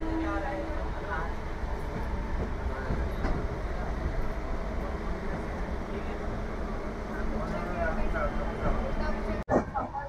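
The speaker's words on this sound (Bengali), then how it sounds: "আমাদের ট্রেন ছেড়ে দিল হাওড়া জংশন" The 12703 Jan Shatabdi Express runs out of Howrah toward Bhubaneswar with a continuous low rumble and rattle of the moving coach, steady and close, with a sharp knock near the end.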